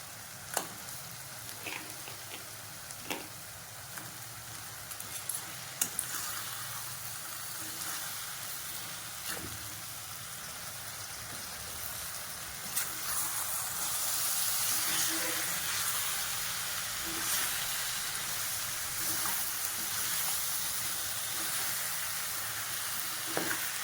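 Half a kilo of washed crab frying and being stirred in a pan for crab gravy, a constant close sizzle with repeated spoon taps and scrapes, the hiss swelling louder in the second half.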